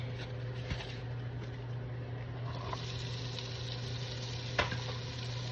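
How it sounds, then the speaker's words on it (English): Bacon tossed back into a pan with onions and peppers to sauté, giving a quiet, steady sizzle under a constant low hum, with a few soft clinks of stirring. "I'm gonna throw my nice bacon back in there with my onions and my peppers. I'm gonna saute them."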